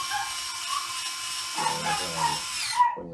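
Dogs bark in a rough, overlapping burst against a steady mechanical whine, the barks growing more frequent toward the end.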